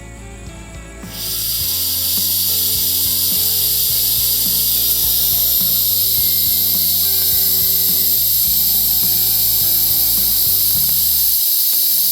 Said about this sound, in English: what I'm gonna go ahead and do is start releasing the air